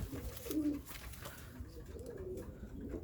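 Fancy feather-footed pigeons coo close by, with two low rolling coos separated by a pause over a faint background hum.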